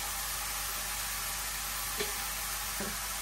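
Steady sizzle of dried chili, cumin, black cumin and lentil dumplings frying in oil, a constant hiss with a couple of soft stirring knocks.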